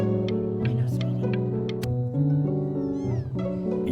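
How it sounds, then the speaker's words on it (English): A cat meows several times in the video game Before Your Eyes. The short, clear, close calls sit over soft background music. "You just happened to find a stray cat in the alley."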